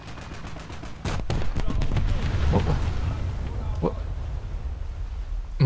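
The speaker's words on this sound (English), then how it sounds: "those were 800 kilo bombs from the Italian" Heavy 800 kg aerial bombs exploding around a ship in a naval combat game, a sharp blast followed by sustained deep rumbling and a couple of later thuds, loud and close with no talk.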